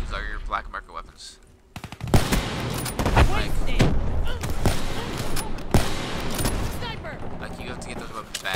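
Gunfire from Call of Duty Black Ops 3 rattles in repeated loud bursts after a quiet opening, sharp shots cracking over steady game noise while someone talks over it.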